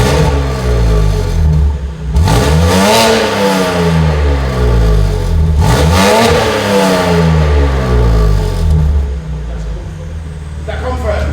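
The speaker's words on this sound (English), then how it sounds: "let's see what it sounds like in comfort and sport with our full turbo back system" A BMW G80 M3 with a full turbo-back exhaust revs hard, rising and falling twice in loud, close sweeps, with the engine droning steadily between the pulls.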